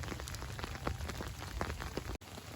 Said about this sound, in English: it's raining. I have my umbrella up.